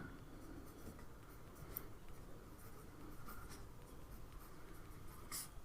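Pen writing equations by hand on paper, a steady, soft scratching with faint scattered ticks, quiet and close with no voices.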